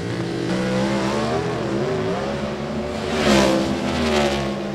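Race car accelerating down a dirt-track straight during late-model qualifying at Great Bend, a loud rising engine roar with shifting harmonic whine that swells near the end as it passes close.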